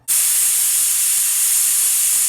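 A pressure cooker cooking horse gram releases a loud, steady hiss of steam that bursts out suddenly and keeps rushing without pause, bright and close.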